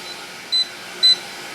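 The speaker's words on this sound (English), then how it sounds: "we just beeped" Two short, clear electronic beeps about half a second apart from a Ball jam and jelly maker signalling the point to add sugar, standing out over a faint steady hum.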